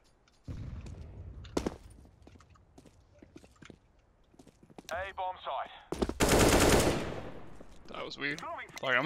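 Gunfire from a first-person shooter game, several sharp bursts of shots scattered through the clip with a loud sustained blast near the middle, heard alongside a voice talking and game sounds.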